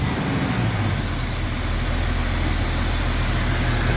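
A rebuilt Jeep XJ engine fitted with a new 62 mm throttle body idles steadily and smoothly, a close, even mechanical drone with a constant low rumble and no revving.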